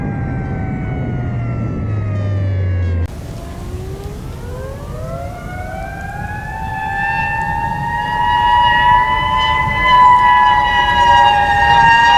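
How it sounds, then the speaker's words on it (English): A loud 3D-printed mechanical siren pair, six-port and eight-port, wails steadily, then drops and rises again into a sustained, piercing multi-tone howl that slowly climbs in pitch and volume. "I have a 6-port siren and an 8-port one"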